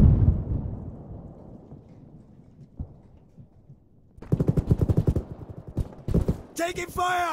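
Gunfire in the Arma 3 military video game: after a quiet stretch of low rumble, rapid automatic bursts break out, loud and close, in rattling strings of shots, with people talking over the firefight.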